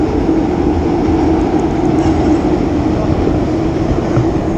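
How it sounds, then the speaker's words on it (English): A Chicago subway train makes a loud, close, continuous rumble and roar of wheels on rails, steady for the whole stretch with no clear voices above it. "that is the subway, Chicago subway"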